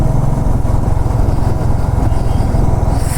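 Royal Enfield Himalayan motorcycles cruising on an open road, a steady close engine drone with rapid low thumping pulses and wind rush, continuous throughout without talk.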